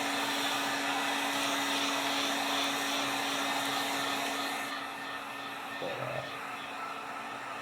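A hair dryer blows hot air onto a leather Red Wing boot with a steady, close whirring roar that shifts slightly partway through.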